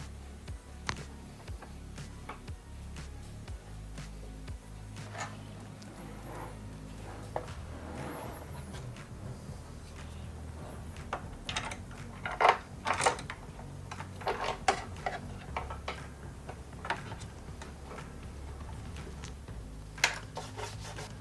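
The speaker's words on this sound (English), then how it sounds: "taking the Allen wrench and screwing in the 8 M5 screws into the base where each of the vertical axes are" Faint scraping and rubbing from an Allen wrench turning eight M5 screws into the base of an AnkerMake M5C desktop 3D printer, with scattered small clicks and taps over a steady low background hum, no talk.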